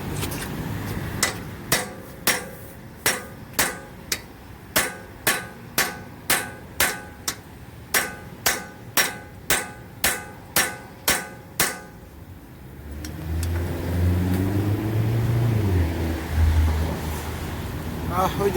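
A BMW E90 3 Series wheel's rim locks being hammered off at a tire shop: a long steady series of sharp metallic hammer blows about twice a second, then a low rumbling engine-like drone as the blows stop.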